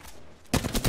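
Rapid bursts of gunfire from the video game Apex Legends, a quiet moment followed by loud, close repeated shots in quick succession.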